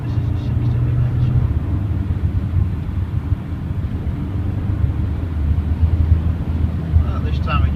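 A 2018 Kia Sportage 2.0 CRDi KX-3 automatic accelerates up a steep road toward 60 mph and shifts gears. A steady, loud engine and road rumble fills the cabin with wind noise, and a voice talks over it.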